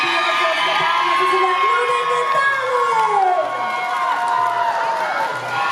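Concert audience ovation for award laureates, loud cheering and shouting with whoops and applause filling the hall, voices rising and sliding over a sustained crowd roar.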